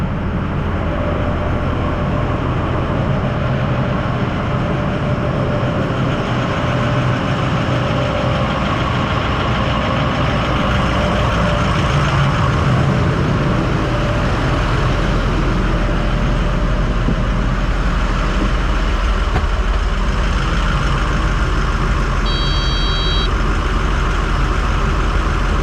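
A heavy diesel machine, the 80 used to load trucks at a contaminated soil cleanup site in Orange County, NY, runs close and loud with a steady low rumble and idle throughout, with no voices.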